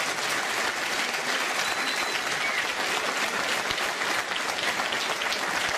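A crowd at a 2012 volunteer recognition ceremony in Palmanova, Italy, applauds steadily: dense, loud, sustained clapping from many hands, with no talk over it.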